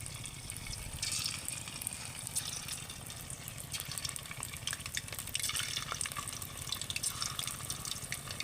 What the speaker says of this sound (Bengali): এবার আমি একটা একটা করে নিয়ে এইভাবে তেলের মধ্যে ছেড়ে দেবো